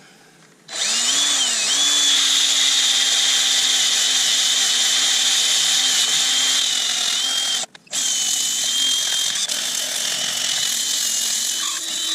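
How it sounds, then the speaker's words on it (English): A loud, steady high-pitched whine of a lathe spinning while elm wood is sanded runs continuously, with one brief cut-out near the end. "I'm going to do some sanding to see what it looks like"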